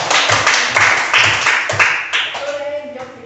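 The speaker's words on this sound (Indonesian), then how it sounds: "tepuk tangan untuk" Classroom clapping during a peer teaching session, a short burst of hand claps with voices talking over and around it, fading as speech takes over near the end.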